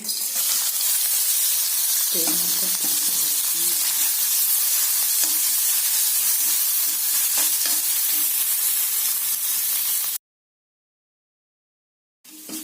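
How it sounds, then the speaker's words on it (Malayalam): Coconut pieces fry in hot ghee with a steady, loud sizzle and hiss, a few stirring clatters early on, before cutting to silence and a short burst of sizzling again at the end. "തേങ്ങ തേങ്ങാപത്രം മൂത്തുകൊണ്ടിരിക്കും"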